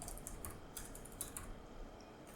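Rapid keystrokes on a computer keyboard while writing C code, a quick clatter of close, soft clicks with no voices.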